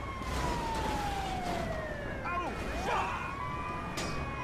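Wailing ambulance siren from the video game GTA 5, a steady sweeping tone with a rising and falling warble midway, heard over continuous traffic and game noise.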